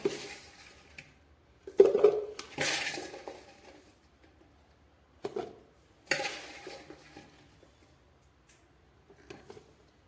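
Homemade ginger pickle, made without oil or spices, is spooned into a washed, dried container, giving scattered utensil clinks and scrapes against the vessel with quiet pauses between them.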